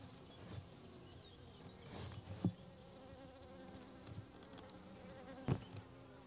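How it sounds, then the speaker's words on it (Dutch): Honey bees buzz faintly and steadily around an opened Layens hive during a colony inspection, with a few soft knocks and handling bumps from the frames. "Ook op het kantraam zitten wat bijen."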